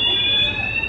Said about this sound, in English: As the alarm goes off. That's a fire alarm.